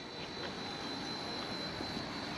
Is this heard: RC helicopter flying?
yes